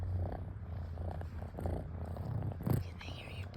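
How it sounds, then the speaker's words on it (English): A low, continuous cat purr rumbling close to the microphone, with faint breathy sounds over it. "Can they hear you purring?"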